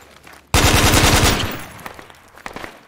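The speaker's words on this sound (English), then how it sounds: "I just shot a tree by accident" A loud burst of rapid automatic gunfire in Project Reality, close and dense for about a second before tapering off, with a few scattered fainter shots afterward.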